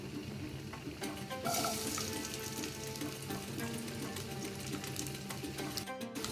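Chopped garlic frying in hot mustard oil, a close continuous crackling sizzle with soft stirring, a sharper burst of spitting early on, no talking.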